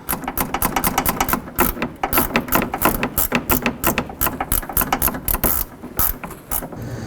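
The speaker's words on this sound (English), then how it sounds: "tighten up the bolts for the AC condenser brackets using your 10mm" A ratchet with a 10mm socket tightens the AC condenser bracket bolts on a 2007–2011 Honda Civic, giving loud, close bursts of rapid clicking with short pauses between strokes.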